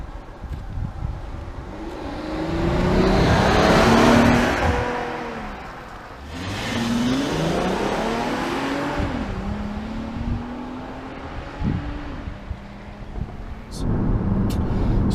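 A 2018 Volkswagen Atlas SEL with a 3.6-liter VR6 V6 and all-wheel drive accelerates through several gears, the engine note climbing and dropping at each shift under steady road and wind noise.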